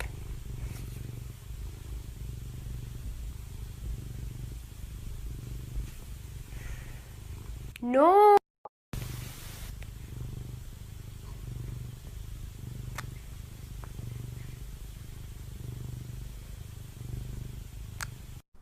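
A cat purring steadily at close range, a soft low rhythmic rumble that continues for several seconds, broken once by a brief shrill yowl and a short spoken word.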